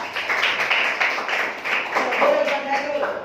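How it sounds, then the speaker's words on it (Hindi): A classroom of high school students claps for a classmate who answered correctly during a reflection and refraction lesson, with a burst of loud, close clapping and talk mixed in throughout. "जोरदार तालियां इस बच्चे के लिए"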